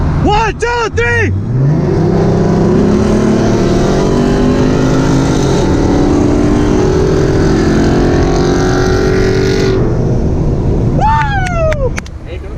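Dodge Scat Pack muscle cars launching from a countdown, engines roaring loudly and climbing through gears in a long close pull, with excited shouting at the start and end.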